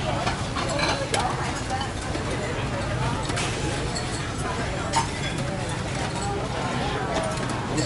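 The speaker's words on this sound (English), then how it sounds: "So I'm mixing everything." Wonton soup ingredients being stirred and mixed at a street stall in Saigon, Vietnam, giving a steady scraping and clinking with light sizzle-like noise, under a continuous bed of busy background sound and talk.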